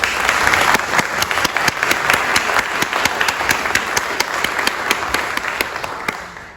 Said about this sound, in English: if you could give them a round of applause for all their volunteer work